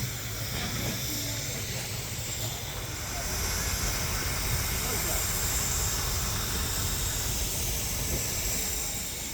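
A steam locomotive on the narrow-gauge Mocănița line at Vișeu de Sus, Maramureș, stands still taking on water, releasing a steady, continuous hiss of steam that holds at an even level throughout, with faint low rumble underneath.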